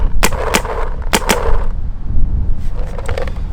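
An Immortal Prime XTS with a C5 engine fires two quick pairs of sharp, close shots, followed by a few fainter shots near the end, over a low background rumble.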